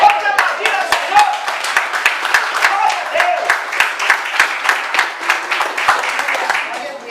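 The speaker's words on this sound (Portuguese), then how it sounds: "Pode aplaudir ao Senhor." A church congregation claps during a worship service, a dense, steady run of hand claps with sharp, regular beats and rhythmic swells, close and loud, with voices mixed in beneath.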